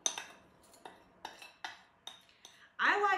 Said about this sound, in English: now I'm going to put my graham cracker mixture in my springform pan